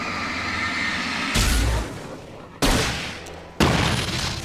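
Gunshots in the action game Alan Wake Remastered: three loud, sharp blasts spaced about a second apart over a steady background rumble, each followed by a short decaying tail.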